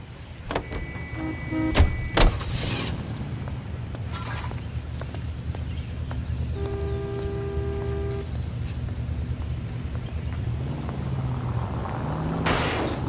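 Car door and engine sounds in the L.A. Noire video game, with a few sharp door thuds early on, then a steady low engine rumble and a brief tonal chime midway, no talk.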